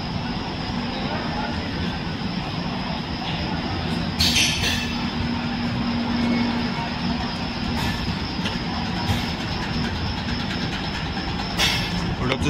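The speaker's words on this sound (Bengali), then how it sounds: "আমাদের ট্রেন ছাড়লো বিকানির জাংশন থেকে 2 নম্বর প্ল্যাটফর্ম দিয়ে।" Pratap Superfast Express pulling out of Bikaner Junction from platform 2 behind an electric locomotive: a steady, loud rumble of rolling rail cars with a sustained tone and occasional hiss bursts, carrying under ongoing talk.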